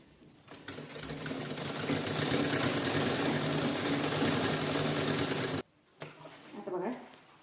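A sewing machine runs steadily for about five seconds, stitching saree fabric being made into a sandal-stand cover, then stops briefly before a few short bursts; a voice speaks faintly underneath.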